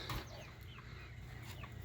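Chickens in a farm chicken coop give soft, scattered clucks and chirps over a steady low background hum, close by and fairly quiet, with no voices.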